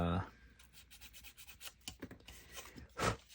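Soft, quick rubbing strokes of a small sanding stick scratch against a plastic model car kit in an uneven rhythm, close and quiet.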